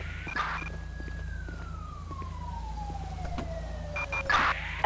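An ambulance siren in Grand Theft Auto V wails once, then sweeps slowly downward in pitch, heard at a moderate distance over a low rumbling background. Brief bursts of other noise sit at the start and end, and no one speaks.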